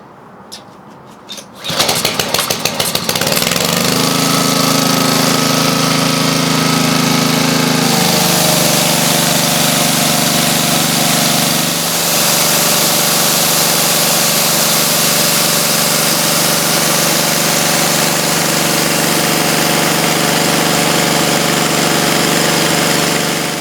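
A repaired pressure washer engine cranks and catches, then runs loud and steady, settling into an even idle with a slight change in pitch partway through, close up and without talking.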